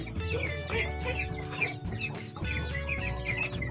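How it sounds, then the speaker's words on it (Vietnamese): Chickens in a disturbed coop cluck and squawk continuously and agitatedly, several birds at once, close and fairly loud over a low background hum. "Con làm náo động cái chuồng gà rồi."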